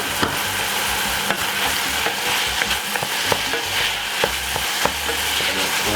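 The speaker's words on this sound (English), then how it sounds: "you want to fry out this thing to get really, really crispy" Gravy base with crushed garlic frying hard in a pan, a loud steady close sizzle throughout with regular light clicks of a utensil stirring, no voices.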